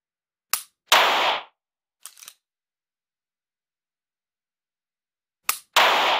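Dry-fire pistol clicks and slide racking with a G-Sight laser training cartridge: a few sharp, close metallic snaps in quick pairs, separated by silence, with one softer click in the middle.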